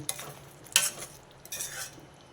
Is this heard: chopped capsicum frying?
yes